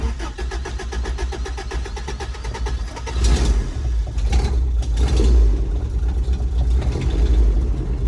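The engine of a 1981 Toyota 4WD truck runs with the choke pulled, a close, rough, pulsing idle that rises in volume and roughness partway through.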